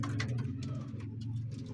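Pigeons of a bred Teddy strain in a home loft coo in low, steady murmurs that fill the background, a continuous soft throaty burble close by without voices over it.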